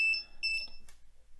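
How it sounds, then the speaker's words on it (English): An Arduino passive buzzer beeps SOS in Morse code, a few sharp, high-pitched electronic tones of short and longer length, close and clear, fading into quiet. "Okay, so that's the passive buzzer thing."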